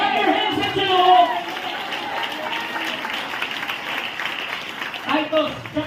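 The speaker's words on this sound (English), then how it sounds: "Clap your hands into the Lord." A church congregation claps its hands in a fast, dense patter that carries for several seconds, with voices mixed in over it.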